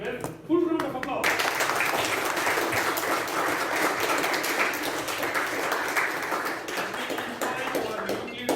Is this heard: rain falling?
no